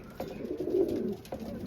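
Racing pigeons coo at the loft in a short series of soft, low, throaty calls with pauses between them, close and fairly clear, with faint background ambience and no talk.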